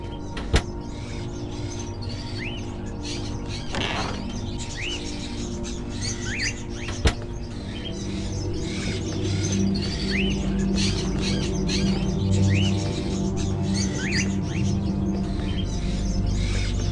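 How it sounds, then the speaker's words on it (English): Caged crows in the video game Fahrenheit: Indigo Prophecy give repeated chirping calls over a steady, humming room ambience, with a couple of sharp clicks early on and no talking. "Are those crows in the cages?"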